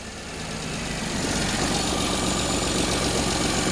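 A Perodua Kenari engine idles very low, giving a steady broadband rumble that swells slightly at the start and then holds an even level.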